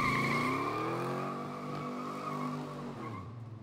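A 1966 Chevelle Super Sport does a burnout, tires squealing loudly over a roaring engine whose pitch slowly falls before easing off near the end.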